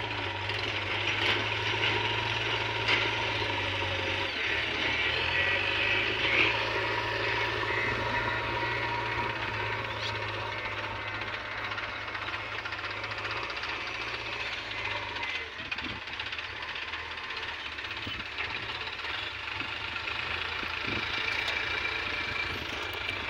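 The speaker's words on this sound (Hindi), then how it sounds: "देखिए जेसीबी वाला अभी वहाँ पे रास्ता बना रहा है ट्रैक्टर के आने के लिए वहाँ से।" A JCB 3DX backhoe loader works on a site where a pond is being dug, its diesel engine droning steadily nearby with shifts in load and a few knocks and clanks in the second half.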